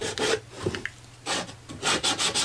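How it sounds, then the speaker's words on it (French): A small hand tool sanding the little edges of a workpiece, giving several short rasping strokes in quick bursts, close and fairly quiet, with pauses between them. "petit outil habituel pour poncer toutes les petites arêtes"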